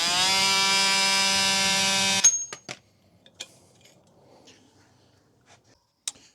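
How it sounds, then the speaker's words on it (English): A steady, loud buzzing whine from an oscillating multi-tool cutting through the steel axle flange of a 1970 Ford Mustang V8's rear end runs for about two seconds, then stops, leaving a few faint clicks and taps. "I have a oscillating tool, and the plan is that I can just cut through the flange."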